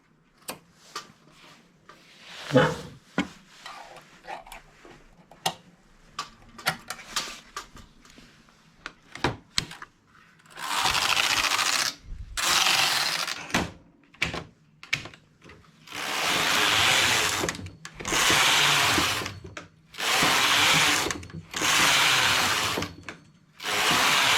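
A knitting machine carriage knits a beach skirt, first with scattered clicks and ticks, then with repeated loud swishing passes of the carriage across the bed in a steady back-and-forth rhythm, close and with no voices.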